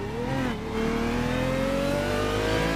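An Aston Martin GT1 race car at Laguna Seca roars past close by, its loud engine note holding a sustained high whine that climbs steadily through the gears, with no voices.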